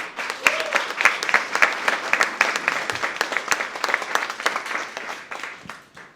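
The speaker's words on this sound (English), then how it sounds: "Let's give them a round of applause." A festival audience applauds the artists, a steady, fairly dense round of clapping with crisp individual claps standing out, sustained for several seconds before tapering off.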